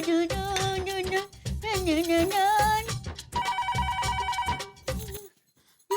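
A melodic ringtone plays loudly, a repeating electronic tune with bright bell-like tones, then stops abruptly near the end.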